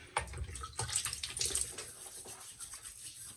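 Water runs from a tap into a sink to wet the face before a shave with a 1953 Gillette President razor, a steady close splashing flow with brief louder spurts early on, no voices.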